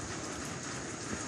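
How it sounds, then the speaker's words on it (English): Steady dense rain at Mount Elgon National Park, an even close hiss of drops with no pauses or voices. "it's continuing to actually rain"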